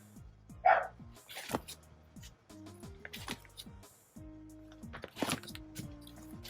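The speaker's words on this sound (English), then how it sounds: "If the dog would just stop barking." A neighbor's dog barking in repeated sharp bursts at moderate distance, irregular and fairly loud, with no talk over it.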